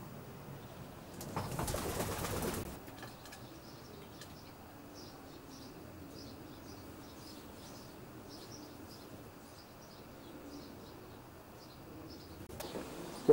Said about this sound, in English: Closed in, and the pigeons look very comfortable.